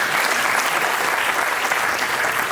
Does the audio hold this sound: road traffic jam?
no